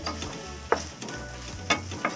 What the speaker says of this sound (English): when they start to sizzle like that